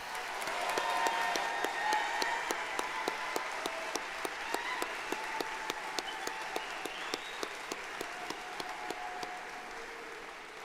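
A commencement crowd applauds graduates with loud, full clapping that starts strong and eases slightly. A few sharper individual claps stand out in a fairly regular beat, and faint cheers mix in now and then.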